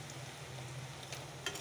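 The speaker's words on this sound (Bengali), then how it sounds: "পেঁয়াজটা একটু ভেজে নেই।" Onions frying in a pan with green chillies, dried chillies and sugar, a faint steady sizzle with light stirring and a soft clink near the end.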